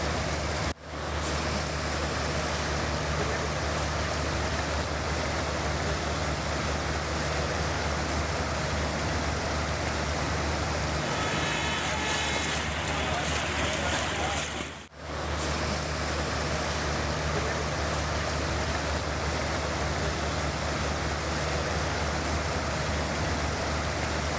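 Heavy rain pouring in Rishikesh, Uttarakhand, during a cloudburst, a dense continuous roar of falling water, even and unbroken with two brief dips.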